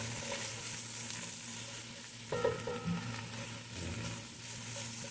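Steady sizzling and frying from sautéed mung beans in a pan as pork chicharon is added, with a brief clatter of stirring midway; no talking.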